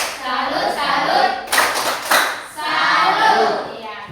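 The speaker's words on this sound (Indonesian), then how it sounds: "Mari kita berikan tepuk salut untuk kelompok 3." A group at a teachers' coaching and supervision session does a rhythmic 'tepuk salut' clap for group 3, patterned handclaps mixed with loud voices chanting along, fairly close and lively.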